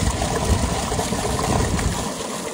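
Water gushes steadily from the outlet of a tube well motor pump in a village, a close, continuous splashing rush for a couple of seconds that thins slightly toward the end.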